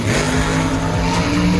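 Drag race cars, including a nitrous-equipped Chevy Nova, roar down the strip with a loud, sustained engine drone and shifting pitch, close and continuous over a brief stretch.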